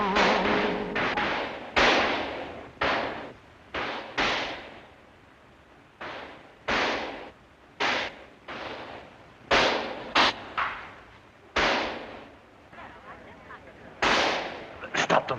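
Gunfire in a film scene: a series of sharp, loud shots in irregular bursts, some close together, over a quieter background.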